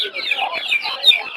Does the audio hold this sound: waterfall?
no